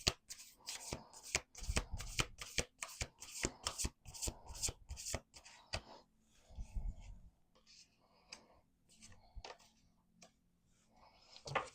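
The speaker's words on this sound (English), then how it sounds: "Do 2 more shuffles." A deck of oracle cards is shuffled by hand at close range. Rapid riffling clicks and slaps come in quick bursts, dense at first and then sparser, with faint low speech in the background.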